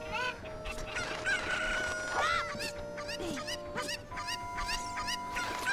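A rooster crows and chickens cluck in Ocarina of Time, busy overlapping calls over a steady bed of game background sound, close and moderately loud.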